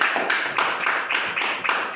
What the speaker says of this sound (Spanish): Den un aplauso a Cristo en esta noche.